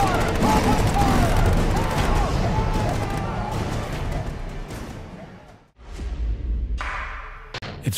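Video game gunfire erupts loud and dense at first, sustained shots blending into a rumbling roar that tapers off, then a sharp cut is followed by a few more bursts and thumps.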